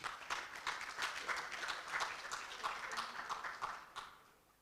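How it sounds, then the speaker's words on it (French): Audience applause at the opening ceremony of ASCOM 2022, a dense run of many hands clapping steadily for several seconds before tapering off toward the end, with no talking over it. "Monsieur Faman Touré, que je vous demande d'applaudir s'il vous plaît."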